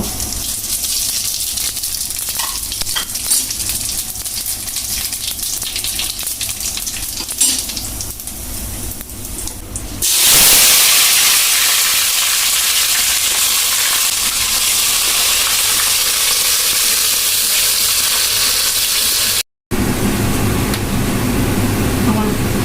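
Onions and spices such as cumin and nigella fry in a pan for a village hilsa and taro curry, a steady loud sizzling hiss that swells sharply as more goes in, with a brief cut near the end.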